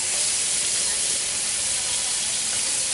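Squirrel meat dredged in flour, salt, pepper and garlic powder frying in a pan, giving a steady, soft, continuous sizzle and hiss close by with no talk.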